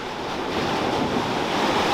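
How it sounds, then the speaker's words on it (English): Rough ocean surf crashing against rocks at Crayfish Bay, a dense, continuous roar of waves mixed with wind buffeting the microphone, loud and unbroken. "Crayfish Bay, ladies and gentlemen. Lots of rock, angry ocean."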